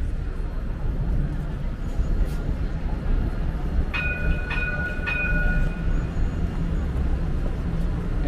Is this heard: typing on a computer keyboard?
no